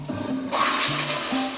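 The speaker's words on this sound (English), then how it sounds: "fades away with a flush" A toilet flushing close by, a brief rushing swirl of water that starts abruptly and keeps going at a moderate level for the short length of the sound, with no voices.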